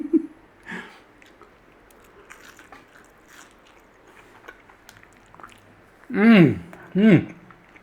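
Someone bites into crispy coconut-breaded chicken, with soft crunching and chewing up close, a few brief bites spread out before two louder vocal exclamations near the end.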